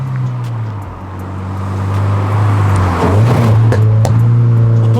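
A 2022 Toyota GR86 with a Greddy Evo GT catback exhaust idles with a deep, steady rumble, then revs up briefly and settles back, loud and close.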